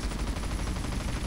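Dense, continuous gunfire from a helicopter strafing cars in GTA San Andreas, a steady loud rattle of rapid shots with no pauses.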